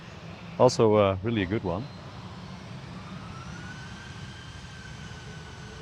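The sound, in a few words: airliner departing from Amsterdam Schiphol airport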